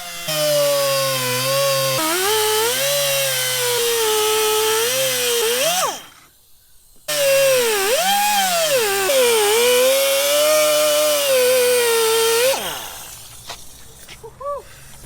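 A power tool cuts into a car bumper up close, a loud buzzing whine that rises and dips in pitch, stops briefly, then resumes before cutting out.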